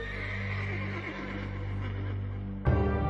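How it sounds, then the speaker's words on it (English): A horse's whinny stands in for the winged horse Pegasus, a long sustained neigh with strong layered harmonics that breaks into a louder, shaking burst near the end, close and clear. "From the pool of her blood rose the winged horse, Pegasus."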